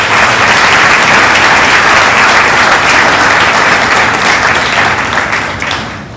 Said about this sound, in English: Join me again in honoring these guests with our applause.